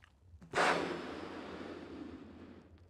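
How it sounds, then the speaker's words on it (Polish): A person blows one long, forceful breath out to inflate a balloon, starting with a sudden rush of air and then a steady, fading whoosh lasting over two seconds, close and loud with no talking. "jednym oddechem w zasadzie już sporą część tego balona nadbuchałem"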